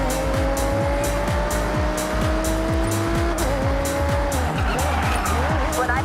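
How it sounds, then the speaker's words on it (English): An Audi R8 V10 supercar in Forza Horizon 6 roars at high revs through repeated quick upshifts, each gear change cutting in rhythmically, with tires squealing as the car pushes hard through corners. "this V10 powered supercar could manage a top speed of 205 miles per hour"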